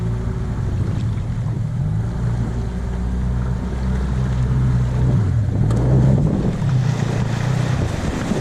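A motorboat's outboard engine runs steadily toward a beach in Bahia Santa Maria, Mexico, giving a low continuous drone mixed with wind and water noise, easing off near the end as surf and splashing take over.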